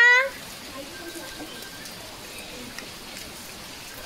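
Heavy, torrential rain pours down outdoors in a steady, even hiss that fills the whole clip, following a brief voice at the very start.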